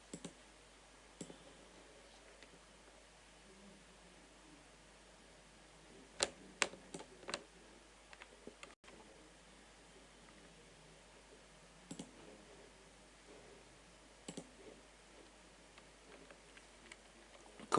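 Computer mouse clicks come sparse and faint while dictation files are dragged between folders in office software, single sharp ticks and a few quick clusters against near silence.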